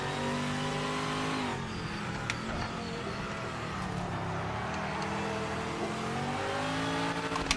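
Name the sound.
Porsche race car engine in a racing video game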